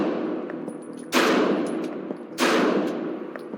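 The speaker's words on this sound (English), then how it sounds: "The first gun I'm going to have you shoot here, it's going to be a Glock Model 19 9mm, professionally made by Glock." Two loud, sharp gunshots from a 9mm Glock Model 19 pistol ring out about a second apart, each with a short echoing decay, close to the listener.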